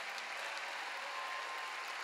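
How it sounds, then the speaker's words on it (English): A large revival conference crowd in El Paso claps and shouts in a dense, steady wash of applause that holds at an even level for the whole stretch, with no individual voices standing out. "You better clap your hands and shout."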